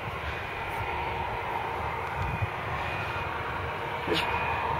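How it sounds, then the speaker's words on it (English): A steady airplane engine roar near Luton airport fills the air, a broad continuous drone with no talking, holding fairly even and swelling slightly toward the end. "another plane's coming"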